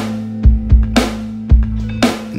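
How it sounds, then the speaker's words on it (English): Pop drum pattern with two sharp, bright snare cracks on the backbeat between deep kick thumps, over a sustained low tone. "it's got a crack in the snare like this"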